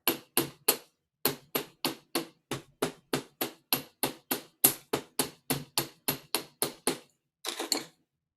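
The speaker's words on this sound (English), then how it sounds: "with your pin end, it is good to hammer that a little bit to work harden it to make it stronger" A small hammer strikes the end of a wire pin for a medieval-style wire pin, working the metal harder with about twenty-five evenly spaced, sharp taps, then a short pause and a final few quick blows.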